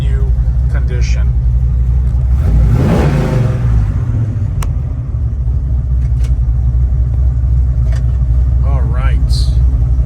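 A 1967 Chevrolet Chevelle engine idles with a deep, loud exhaust rumble and briefly revs up, while a person speaks a few words over it.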